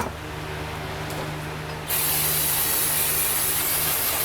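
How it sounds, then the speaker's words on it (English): Brake cleaner sprays from an aerosol can onto a caliper bracket from a 2014 Toyota Highlander's rear brakes at a workbench, a steady close hiss that starts at once, grows louder and brighter after a brief softer burst, and holds without talk. "First I'm going to clean it off with brake cleaner though."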